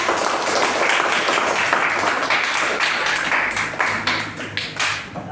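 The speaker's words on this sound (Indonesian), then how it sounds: "Tepuk tangan ya" Students applaud in a classroom after a group presentation, a busy patter of many hands clapping with some sharper individual claps, steady at first and then loosening and thinning toward the end.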